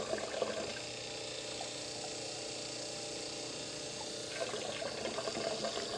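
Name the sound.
liquid flowing through a solid carbon block water filter into a beaker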